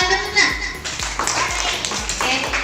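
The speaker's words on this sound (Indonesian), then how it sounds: "Tepuk tangan dulu nak." Schoolchildren in a classroom clap their hands in a rhythmic group pattern of repeated beats, close and fairly loud, with a voice mixed in.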